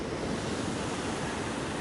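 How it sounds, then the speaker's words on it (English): Pacific Ocean waves breaking about 15 meters behind a tent, a steady broad wash of surf noise with some wind, continuous and fairly loud, no voices. "this is the Pacific Ocean right behind my tent, maybe 15 meters"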